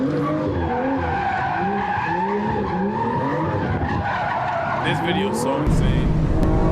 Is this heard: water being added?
no